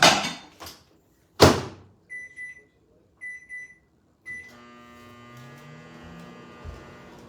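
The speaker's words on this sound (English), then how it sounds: "I'm popping it in the microwave. Whew. And I'm gonna set the microwave to 11 minutes." A microwave oven door clunks open and shut, followed by a few short beeps as the timer is set to eleven minutes, then the steady hum of the oven running, close and alone.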